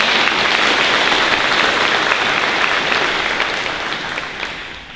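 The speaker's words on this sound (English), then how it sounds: "Yes, go ahead, give her a round of applause." Sustained applause from a graduation audience honoring Barb, a retiring staff member, dense and steady throughout before tapering slightly near the end.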